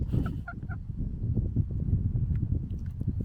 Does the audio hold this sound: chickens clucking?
yes